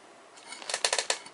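A short run of crisp key clicks on an HP Notebook 14 laptop keyboard while entering a password, several quick taps in an uneven rhythm, close and fairly quiet with no voices.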